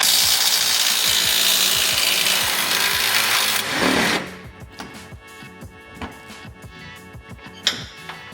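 A 1/2 inch impact wrench on the front strut bolts of a Ford F150 rattles loudly and continuously for about four seconds, then stops, leaving scattered metallic clinks and knocks.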